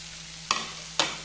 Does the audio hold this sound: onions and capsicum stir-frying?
yes